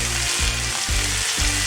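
Peppers and onions with a pinch of salt sizzle and fry in a pan, a loud steady hiss broken by three rhythmic low scraping stirs.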